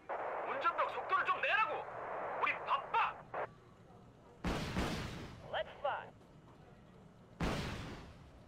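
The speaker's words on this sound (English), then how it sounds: "we took out two with those rockets" Rocket strikes in the Wargame: Red Dragon video game, two sharp broadband blasts with rumbling tails after a stretch of bird-like calls and talk, set against a quiet background.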